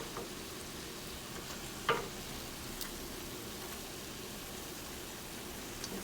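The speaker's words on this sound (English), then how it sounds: "And you're just going to pan fry it." Empanadillas, Puerto Rican meat turnovers, pan frying in oil, giving a soft, steady sizzle throughout with one brief sharp click partway in.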